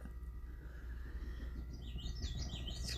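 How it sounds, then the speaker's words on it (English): A bird-call clock chirps in short, bright twittering notes toward the end, set over a steady low rumble of room noise inside a home. "That was our bird clock."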